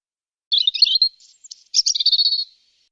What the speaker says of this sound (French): Bonjour, petit rouge-gorge.